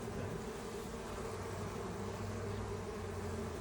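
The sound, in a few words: honeybees cleaning inside a Langstroth beehive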